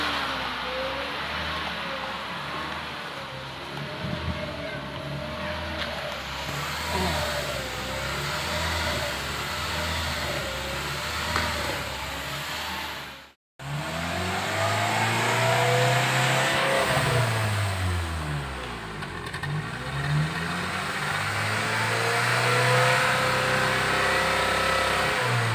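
A Honda Brio's engine revs repeatedly through its exhaust, close and loud, rising and falling in pitch with a brief cutoff midway before more revving.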